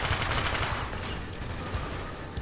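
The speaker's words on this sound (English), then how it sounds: "Got like a submachine gun playing target practice over here." Submachine gun fire from Call of Duty: Black Ops, during target practice: a dense, continuous burst of rapid shots, loud and close throughout, with no talking.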